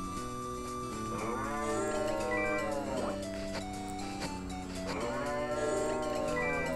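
A cartoonish cow from the 3DS farming game Story of Seasons: Trio of Towns lets out two drawn-out, sliding moos over a steady backdrop of game music, close and clear.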